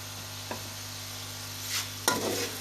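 Green peas are stirred into fried masala in a pan. A quiet background sizzle is broken by a couple of brief spoon-and-pan scrapes.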